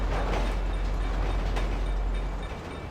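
A steady rumbling rush of a train going by in GTA V, loud and continuous, easing slightly at the end.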